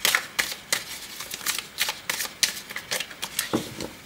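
Tarot cards are shuffled close up in quick, crisp riffling bursts that repeat in an uneven rhythm, with soft taps between them.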